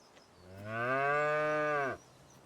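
Angus cow mooing in the video game Farming Simulator 25, a single clear, drawn-out low moo lasting about a second, loud and close against a quiet background.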